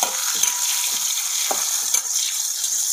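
Tomatoes dropped into a pan of frying onion, a steady close sizzle with a few brief stirring scrapes and clinks, no talk.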